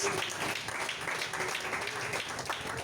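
A church congregation applauds in a steady, dense wash of many hands clapping at once, sustained and fairly loud with no clear individual claps standing out.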